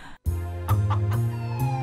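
A brief flurry of nearby chicken clucking, a few quick squawks over a steady fowl chatter.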